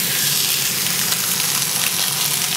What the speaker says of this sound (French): On va faire donc cuire notre viande que sur une face.